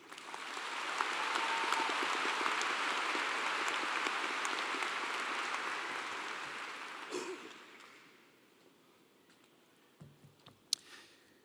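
Commencement audience at Clemson University applauding in a large hall, a dense rain-like wash of many hands clapping that swells, holds steady for several seconds, then fades out, leaving a few scattered claps and a sharp click.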